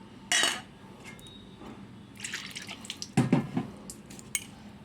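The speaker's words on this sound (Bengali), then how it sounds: "হাত ধোয়া মশলার বাটি ধোয়া জলটা একটু আমি দিয়ে দিলাম" Water left from rinsing a spice bowl is poured into a pan with a brief splash, followed by clinks of dishes and utensils and scattered drips close by.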